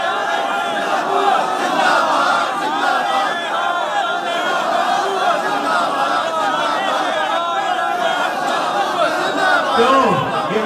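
A large crowd shouts religious slogans in unison at a religious gathering, a dense chanting roar that holds steady and loud throughout.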